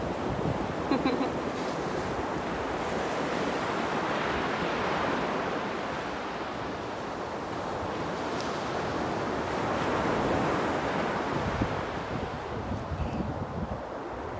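Ocean surf rolls and washes continuously, broad hissing swells rising and easing with wind noise buffeting the microphone.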